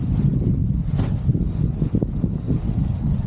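Strong wind buffeting the microphone while kiting a paramotor wing on the ground, a steady low rumbling roar that continues without a break and has small gusty swells.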